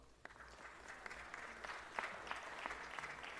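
A crowd at a city council meeting applauds, a steady patter of many hands clapping at moderate distance, with a few sharper individual claps standing out and no speech.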